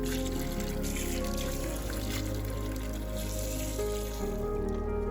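A lobster sits thawing in a bowl of cold water, with a faint, steady trickle of water running throughout, low in level against a quiet background hum.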